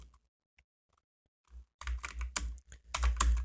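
Someone types a prompt on a computer keyboard, starting with a few faint isolated taps, then a quick burst of close, clattering keystrokes with heavier thumps on the keys.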